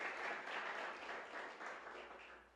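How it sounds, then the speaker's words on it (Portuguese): A church congregation bursts into dense, continuous applause during a worship service, a steady wash of many hands clapping together, fairly distant and even throughout. "pode aplaudir o Senhor Jesus, Ele é digno"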